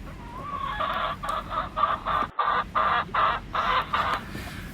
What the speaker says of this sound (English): still looking at the chickens